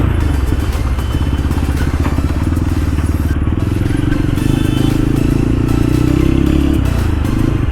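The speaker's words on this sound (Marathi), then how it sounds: "तिथून पूर्ण हवा लीक होती आहे, त्याच्यामुळे आवाजच मारत नाही आहे सायलेन्सर" Motorcycle with a cracked, leaking silencer idling and running, a steady loud low engine drone with rattling clatter throughout, close to the listener, with no talk.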